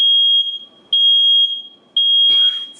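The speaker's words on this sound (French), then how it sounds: "C'est l'alarme qui sonne tout le temps" A home smoke alarm set off during late-night cooking of a seafood boil shrills in three long, piercing beeps with brief gaps, loud and close, while a faint clatter follows the last beep.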